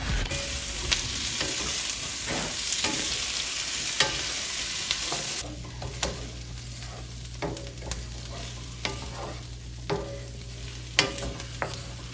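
Onions frying in butter in a pan over medium heat give a steady sizzle, then a low hum joins midway as repeated scraping stirs and light clicks punctuate the frying, with no voices.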